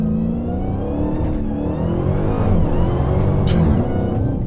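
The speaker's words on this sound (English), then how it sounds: "To launch, press brake, and then quickly apply full throttle." A Dodge Challenger Hellcat Redeye Widebody launches at full throttle with a loud, close engine roar that climbs and wavers as revs rise, rumbling throughout with no talking.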